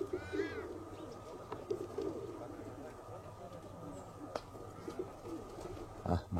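A flock of pigeons coos softly and repeatedly at moderate distance outdoors, the birds' calls mixing with faint background noise and a few quiet voices.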